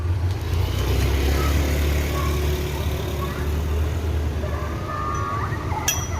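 A bus rolls into Solok terminal with a steady, loud low engine rumble and a constant road-vehicle drone. A faint higher whine and a sharp click come near the end.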